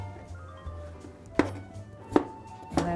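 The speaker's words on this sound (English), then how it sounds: "And when I cut it, I just cut it in little slices, and then just cut it down on little logs," Three sharp knife chops land at a steady pace through potatoes on a cutting board, each a clear thunk against the board over a low background hum, with no voices.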